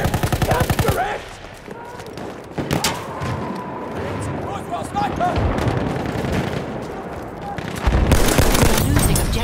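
Machine gun fire in the Battlefield 1 video game comes in rapid, loud bursts at the start and again near the end, with shots and battle noise in between and voices calling out over the fighting.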